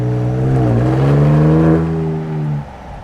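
Ford Ranger Raptor pickup with a 3.0 twin-turbo V6, a close, strong engine drone climbing in pitch as it accelerates for about two seconds, then easing off and fading.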